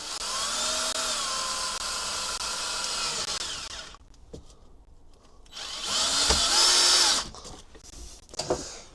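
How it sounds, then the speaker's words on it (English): A power drill drives screws in a workshop, whirring in two long loud bursts with a quieter stretch of clicks and rattles between them. "So many screws, Fern, so many screws."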